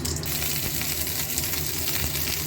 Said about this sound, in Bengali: সাদা সর্ষে, কালো সর্ষে, সাদা জিরে আর কারি পাতাটা ফোড়নে দিয়ে দিয়েছি।